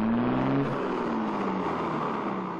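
A motor vehicle's engine revs up at a roadside traffic police inspection, a loud sustained droning roar with a rising whine at the start that settles into steady engine noise.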